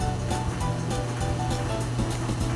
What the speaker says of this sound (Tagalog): kumukulo na yung tubig natin